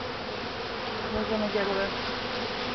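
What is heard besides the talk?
honeybees buzzing at top bar hive during honey harvest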